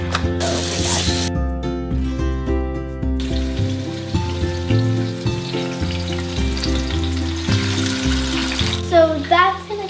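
Marinated chicken for tagine frying in a pan, a crackling sizzle beneath prominent music with tonal notes throughout.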